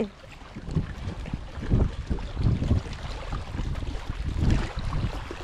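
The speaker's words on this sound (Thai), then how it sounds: "ลมแรงมากเลยวันนี้" Strong wind buffets the microphone on a river during a fishing trip from a boat, a steady low roar with heavy gusts swelling around the second and fourth-and-a-half seconds, alone without talk.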